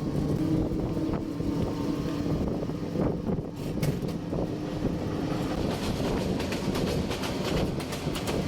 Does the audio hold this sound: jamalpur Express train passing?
yes